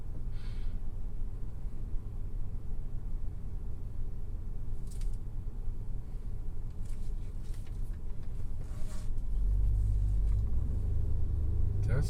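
A car rolling past on a road beside a parked Chevy SSR, a steady low rumble that swells louder toward the end as it draws near, with no talk over it.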